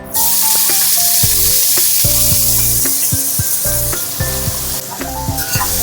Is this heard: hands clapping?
no